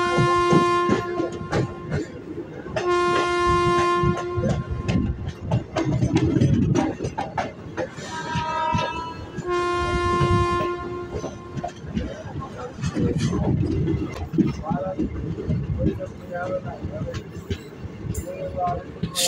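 Teesta Torsa Express rolling between New Jalpaiguri and Sealdah, a steady rumble and clatter of wheels over rail joints from inside the carriage, with long blasts of the horn sounding twice over the din.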